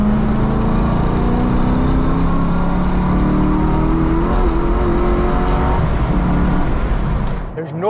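A Corvette C6 Z06 sports car accelerates hard in fourth gear on a highway, its engine droning loud and steady with a rising pitch under heavy road and wind roar, heard from inside the car.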